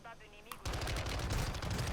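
Rapid automatic gunfire in a first-person shooter video game, played on a Dell G15 gaming laptop, bursts in after a brief quieter lead-in and continues steadily for over a second at moderate level.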